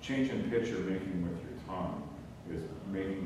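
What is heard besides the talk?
No everyday noise stands out behind the speech.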